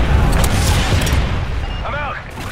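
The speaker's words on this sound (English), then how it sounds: "Friendly Predator missile inbound." A Predator missile explodes in Call of Duty: Modern Warfare with a loud, rumbling boom that fades over a couple of seconds, and game voices sound over it.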